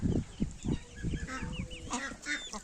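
Hens and recently hatched chicks cluck and peep softly at close range in a barnyard coop, a busy scatter of short calls overlapping one another, quiet overall.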